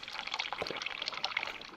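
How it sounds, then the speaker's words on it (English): Water from a barrel fills a cup in the Sailwind sailing game, a bright, bubbly gurgling pour that runs continuously at moderate volume with no talking over it. "We can fill up this cup of water."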